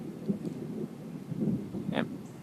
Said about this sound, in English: That is a nice clap of thunder